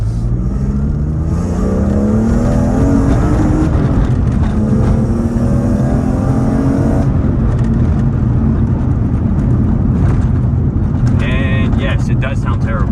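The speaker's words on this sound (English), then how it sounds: "it's just a raspy exhaust. It's because the guy put a straight mid-pipe, unresonated, with stock, everything else." A BMW E46 M3 Dinan, otherwise stock but fitted with a straight, unresonated mid-pipe, pulls hard with a raspy exhaust, its engine note climbing steadily through the gears with a loud, buzzy drone while people talk over it.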